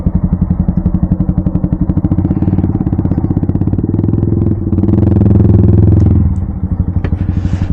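A Yamaha R15 motorcycle fitted with a full-system exhaust with the dB killer removed idles loudly and close by, its engine popping in a steady rapid pulse before revving up into a fuller, deeper roar that drops back to idle.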